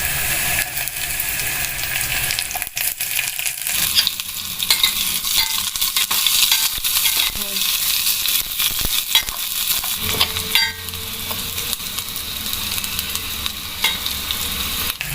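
Onion sautéing in a pan for a Filipino bamboo shoot dish, with a continuous loud sizzle and frequent stirring scrapes and clatters, close up, with no voices.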